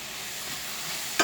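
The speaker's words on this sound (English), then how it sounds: "Now I'm going to add some butter." Butter sizzling in a frying pan as a quiet, steady hiss, with a brief louder crackle near the end.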